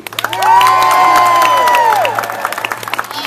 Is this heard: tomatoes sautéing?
no